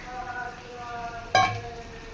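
Mutton and masala frying in a pan, a soft continuous sizzle with a faint hum, punctuated by one sharp metallic clank of the spoon against the pan, nearby.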